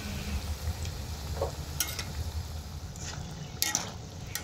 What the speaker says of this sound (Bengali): আর এই পকোড়াগুলো ভাজার সময় হালকা আঁচে ভেজে নিতে হবে, বেশি আঁচে ভাজা যাবে না।